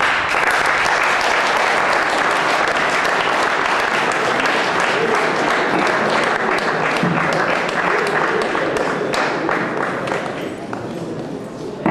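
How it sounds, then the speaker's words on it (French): A crowd at a sports talent awards ceremony applauds a football player being honoured, with loud, dense, sustained clapping and a few cheers that continue throughout, easing slightly toward the end, with voices mixed in. "Baruti Toto, peut-il être applaudi un peu plus que ce que vous proposez là?"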